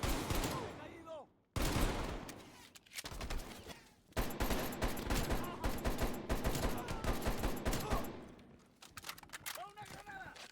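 Gunfire rattles in Call of Duty Black Ops Cold War as dense automatic bursts crackle loudly and almost without pause, dropping out briefly twice, with shouted voices mixed in among the shots.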